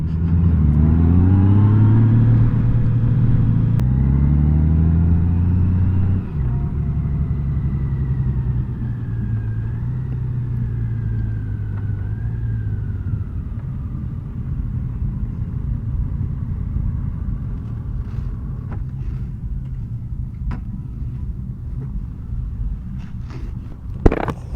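A 2021 Honda Goldwing motorcycle engine revs and pulls during a ride, rising pitch early on, then settling into a steady rumble with wind noise, no voices.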